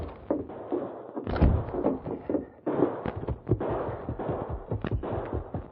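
A dense, rumbling burst of gunfire in an old radio drama, with repeated heavy cracks and booms blending into a continuous noisy roar.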